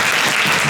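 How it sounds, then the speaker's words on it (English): A burst of dense clapping from an audience at a New York Fashion Week AI and style panel, steady and loud throughout. "Can we give a big round of applause for the panelists?"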